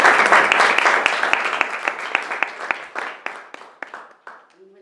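Audience applause for a guest author at a book launch, a dense burst of clapping that gradually thins and fades over several seconds with a few scattered claps at the end.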